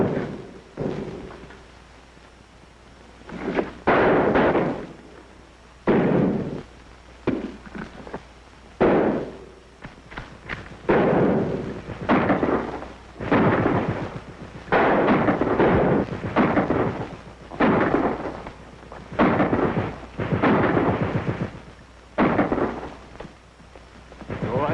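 Repeated gunfire in a 1942 wartime film scene, a string of loud, sharp shots and bursts spread irregularly across the scene, some overlapping into rolling booms, with no talking.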